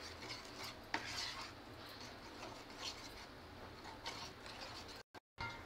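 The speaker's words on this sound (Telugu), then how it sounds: "బాగా కలుపుకోవాలి." A spoon stirring thick mixed vegetable ragi porridge in a pot over low heat, giving soft scraping and rubbing against the pot with an occasional clink, faint and steady throughout.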